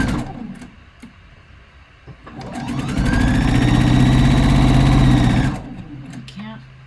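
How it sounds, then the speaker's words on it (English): A sewing machine runs along the side seam of a robe jacket, a close steady whirring stitch burst lasting a few seconds, starting and stopping cleanly, with light handling noise around it. "I'm going to start from the hemmed edge again and go sew along the other side seam"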